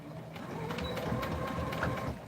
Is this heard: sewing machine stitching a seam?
yes